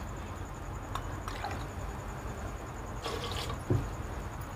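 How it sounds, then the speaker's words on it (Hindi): Two cups of water poured onto potatoes in a pressure cooker while preparing aloo paratha: soft, faint splashing and trickling in a couple of short bursts over a quiet kitchen background, with no talking. "आलू में हम 2 कप पानी डालेंगे"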